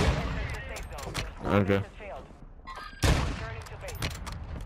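Gunfire in a video game, sharp cracking bursts of shots scattered through the scene, one heavy loud burst standing out, with people talking over the shooting.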